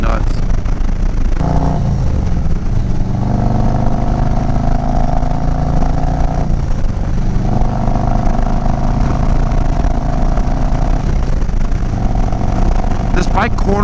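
A Harley-Davidson motorcycle is ridden along a road, its engine a loud continuous low rumble under wind noise, dipping briefly as the rider shifts, with a rider talking over it.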